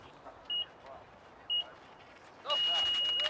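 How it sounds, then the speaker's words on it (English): Start buzzer at a Nordic skiing race sounds three times: two short beeps, then one longer sustained tone, faint and thin over quiet outdoor background with a brief scrape of skis. "Sounding off is that buzzer for Liu."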